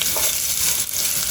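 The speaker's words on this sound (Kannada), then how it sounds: "ಜೀರಿಗೆ ಒಂದು ಸ್ವಲ್ಪ ಕ್ರ್ಯಾಕಲ್ ಆದಮೇಲೆ ಅದಕ್ಕೆ ಇಲ್ಲಿ ಕಟ್ ಮಾಡಿ ಇಟ್ಕೊಂಡಿರೋ ಆನಿಯನ್ ಹಾಕ್ತಾ ಇದ್ದೀನಿ." Chopped onion added to hot oil with crackling cumin seeds for a vegetable samosa filling, a loud, steady, close sizzle and spatter throughout.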